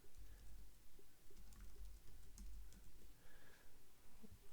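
Soft, quick keystrokes on a computer keyboard tap out in steady irregular bursts, close and quiet, with no talking.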